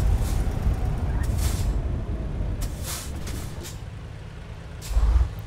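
A truck in American Truck Simulator braking hard, with repeated sharp hisses of air brakes bursting over a low rumbling engine drone, the loudest release near the end.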